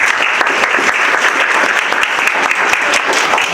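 An audience at an international forum on inequality, poverty and environmental crisis claps in a sustained, dense burst that holds at an even level from start to finish.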